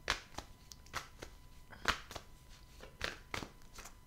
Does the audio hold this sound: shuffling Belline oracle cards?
yes